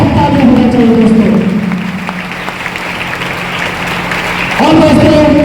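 Applause from an audience at an anniversary and promotion day event, loud at the start, easing to a steady patter through the middle and swelling again near the end, with speech-like sound mixed in.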